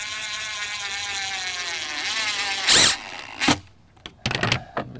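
A power drill driving 1-inch painted screws into a storm door hinge, whining with a rising pitch for a few seconds, then stopping, followed by short clicks and handling knocks.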